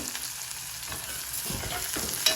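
Masala for an eel fish curry cooks in a pan, giving a steady, fairly soft sizzle with a few faint scrapes of stirring near the end, and no voices.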